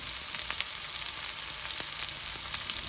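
Onion frying in oil with garlic, cardamom and cloves, a close steady crackling sizzle with small popping ticks and faint stirring, no voices.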